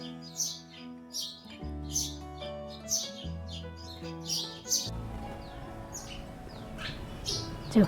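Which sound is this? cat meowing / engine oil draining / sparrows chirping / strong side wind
sparrows chirping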